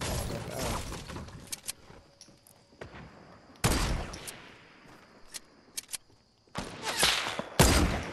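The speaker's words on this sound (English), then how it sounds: "I'm getting sniped at, I'm dead." Sniper and rifle gunfire crack out in a Fortnite match, several sharp loud shots and bursts separated by quieter gaps, with distant shooting in between.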